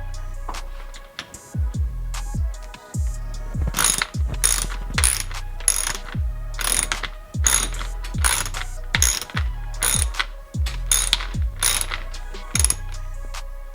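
A ratchet wrench tightens a nut and washer on a 2021 Marzocchi Bomber Z2 suspension fork, clicking in quick, close bursts of pawl ratcheting separated by brief pauses as the handle swings back.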